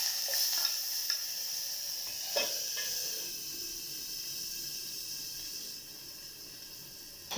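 Tomato pieces sizzle in hot oil in a pan with a bright, steady hiss, while a few sharp clatters near the start come as the pieces drop in. The frying settles into an even, moderately loud crackle.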